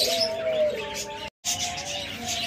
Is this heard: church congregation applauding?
no